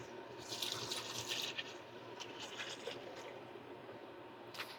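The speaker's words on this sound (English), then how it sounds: "I'm gonna add a half gallon of water." About half a gallon of water is poured into a pot for Southern greens, a soft, faint splashing and gurgle that is steady throughout with a few brighter splashes.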